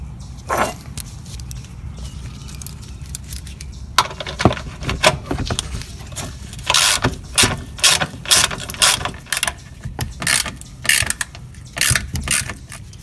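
Ratchet wrench loosening bolts on a Honda engine cowl during a timing belt job, close rapid clicking bursts repeated in quick pulses with brief pauses between turns.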